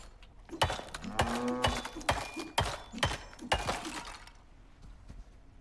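Cattle mooing in the survival game Icarus, where a cow and a bull are penned on a farm: several loud, drawn-out moos in a row, close by, with no talk over them.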